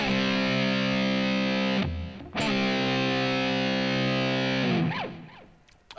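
Distorted electric guitar plays sustained double stops, sliding between positions with a brief break midway, ending in a sliding descent that fades out.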